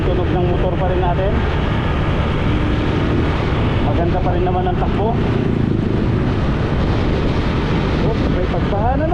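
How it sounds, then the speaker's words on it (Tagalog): A motorcycle engine drones steadily while riding along a flooded highway, loud and continuous with wind and water noise, while someone talks over it. "Maganda yung tunog ng motor pa rin natin."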